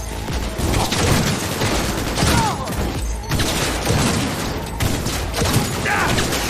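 Sustained gunfire in Cyberpunk 2077, a dense, loud firefight with overlapping bursts, mechanical clatter and booms running the whole time.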